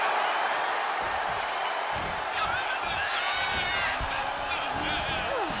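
Arena crowd in the WWE 2K26 wrestling game keeps up a steady, loud roar of cheering throughout, with scattered whistle-like calls and impact thuds from the ring mixed in.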